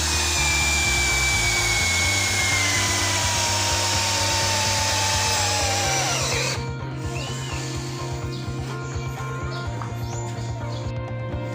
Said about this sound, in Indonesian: Pertandingan pertama kita menggunakan mata bor auger 10 mm pada kecepatan high dan modenya adalah mode drilling.